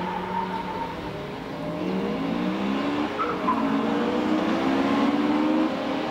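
Tuned Honda Integra race cars pulling away together at a race start, a dense, sustained roar of engines rising in pitch with some tire noise, loud and steady throughout with no voices.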